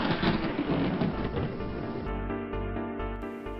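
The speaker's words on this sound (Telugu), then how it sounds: "అక్కడ ఒక పెద్ద మెరుపు వస్తుంది. దీనిని పిడుగు అంటారు." Thunder from a lightning strike during a storm: a loud, close crack that rolls into a deep rumble fading over a few seconds, with rain noise in the background.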